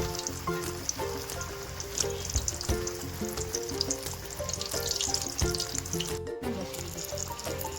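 Village-style fish sizzles steadily in hot oil in a pan after being flipped, a dense, continuous frying hiss with light crackles, close and fairly loud, with no voices.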